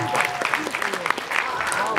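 Scattered audience applause breaks out in a room, brief and moderately quiet, with people talking and laughing over the clapping.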